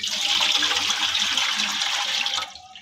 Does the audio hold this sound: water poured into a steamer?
yes